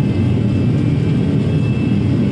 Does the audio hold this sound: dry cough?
no